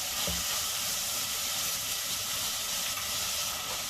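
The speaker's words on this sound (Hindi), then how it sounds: "हाई फ्लेम पर इसे घुमा घुमा कर इस तरह से इसे भूनना है।" Onions are stir-fried over a high flame for Sindhi seyal bhaji, giving a continuous bright hiss and sizzle throughout, close and even in level with no talking.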